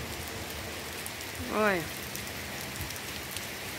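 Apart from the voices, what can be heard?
light rain falling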